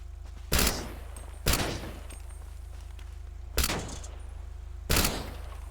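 Four heavy bursts of gunfire from a video game shooting out vehicle tyres, each a loud, close blast with a short decaying tail, spaced irregularly over a constant low engine-like drone.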